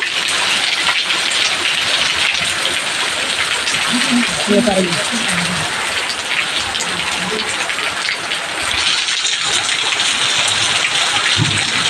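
Heavy rain pours steadily at Mettur Dam, with a dense, loud hiss throughout, while a voice speaks briefly beneath the downpour.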